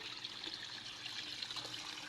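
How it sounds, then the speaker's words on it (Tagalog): Water bubbles and trickles steadily in a koi pond, stirred by a solar-powered air pump, a faint, continuous gurgling with no voices. "Yun ang buga ng air pump natin na solar."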